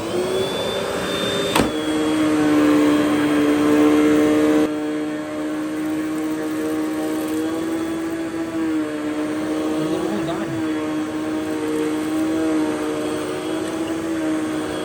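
Russell Hobbs Athena Pet swivel upright vacuum cleaner running on carpet, a loud steady motor whine with a constant high tone, pitch shifting slightly as it is pushed, one sharp bump early on.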